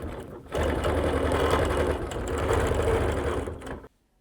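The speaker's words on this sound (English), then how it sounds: "I'm going to continue stitching." A sewing machine stitches a quilt with a continuous close, buzzing run of about three seconds, then stops abruptly into silence.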